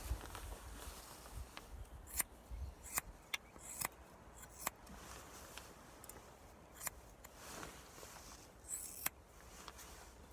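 Scissors snipping through hair in a quiet room as someone trims their own hair around the ears, with a scattering of faint, sharp snips spaced irregularly.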